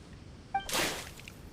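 In the video game Genshin Impact, water is splashed on a character: a brief chime is followed by one soft, airy splash that quickly fades.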